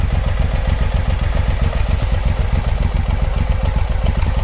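A Suzuki M109R motorcycle engine runs close by in a steady, rapid, throbbing idle as it warms up, loud and even throughout with no talking.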